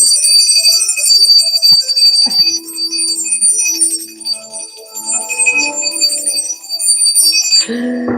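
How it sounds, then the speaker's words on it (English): A hand bell rings out loud and bright with repeated shimmering strokes that sustain over a busy background, ending in a brief lower-pitched noise. "when I ring the bell like this, it just sprinkles stardust on everybody"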